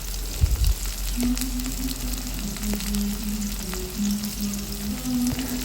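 Onions fry in a pan while being stirred, a steady soft sizzle with a low steady hum underneath and a brief knock near the start; no one speaks.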